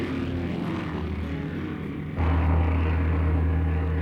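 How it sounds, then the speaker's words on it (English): A propeller airplane climbing, heard as a steady droning engine hum that grows louder and deeper partway through, with no talking. "And that plane, it's going up too."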